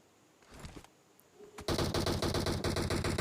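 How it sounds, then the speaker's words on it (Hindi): Gunfire from the mobile video game PUBG Mobile: a few scattered shots, then a sudden loud, sustained rapid automatic burst that keeps going to the end, with no talking. "मैं जब ऊपर चढ़ता हूँ तो मेरे को फिर से गोलियाँ लगने लगती है"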